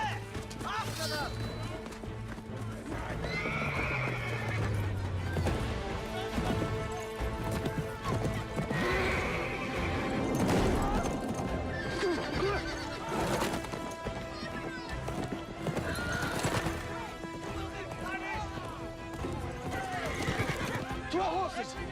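Horses in a video game whinny repeatedly amid a clatter of galloping hooves, with shouting voices over the commotion and a brief crash in the middle.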